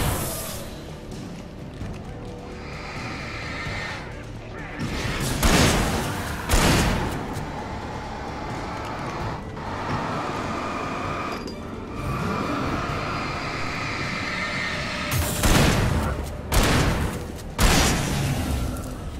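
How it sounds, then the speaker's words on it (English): Pump-action shotgun fire in the video game Alan Wake: several loud, sharp blasts, a pair near the start and a cluster near the end, over a dense game soundscape. "Pump action shotgun's still pretty slow."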